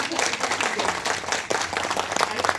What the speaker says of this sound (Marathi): एकदा जोरदार टाळ्या जेवढे आहेत